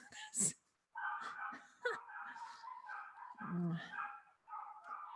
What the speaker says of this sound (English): our little puppy brigade over there has a little puppy chorus going